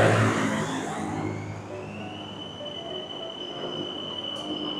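Train wheels squeal on the rails at a Bangkok station, a long high-pitched whine sustained over the steady rumble of the moving railcars, loud and close with no talking.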